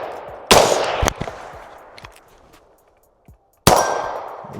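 Rifle shots at an outdoor range striking steel targets: two sharp reports about half a second apart, then after a quiet stretch a third loud crack, each with a metallic clang and ringing tail.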